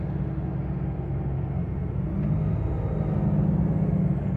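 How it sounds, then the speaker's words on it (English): A low, steady engine rumble from a shuttle bus idling, constant and fairly loud with no voices. "this bus is definitely well taken care of. Just listen to it in the back right there"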